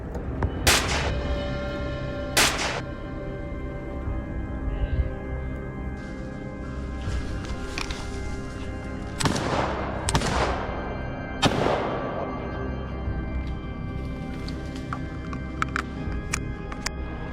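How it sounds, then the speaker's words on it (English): Gunshots ring out during a wild boar hunt, several sharp loud cracks with rolling echoes, two early and three close together later, spaced by stretches of quieter background. "A gunshot startles a hog, sending it crashing through the brush to escape."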